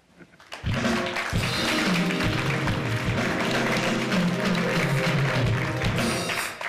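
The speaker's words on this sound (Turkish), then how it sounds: "Hatta rejiden alkış sesleri duyuyorum." A television studio control room crew applauds during a live morning broadcast, steady clapping running loud and unbroken for several seconds over a low background hum and tones.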